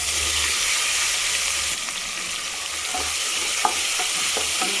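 Onion with turmeric sautéing in a pan for mint rice, giving a steady close sizzle and hiss with scattered spoon scrapes and stirring taps toward the end.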